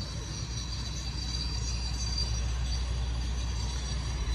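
Amusement park train ride atop a mountain resort near Erbil, Kurdistan, with a constant low rolling rumble and a hint of wheels squealing against the rails, steady and fairly close.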